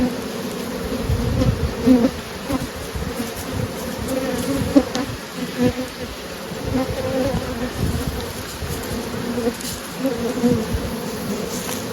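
Honey bees buzz steadily around a small swarm hive with nurse bees and drones on the frames, a dense continuous drone that holds close and even throughout.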